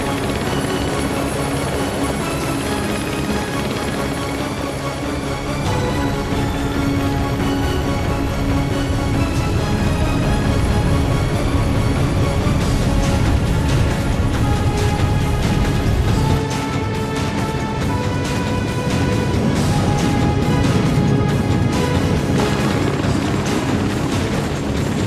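An aircraft flying in the video game Ninja Gaiden Sigma 2 during the Wing Fortress stage, a loud, continuous engine roar and rotor-like rumble with game music and clatter layered on top.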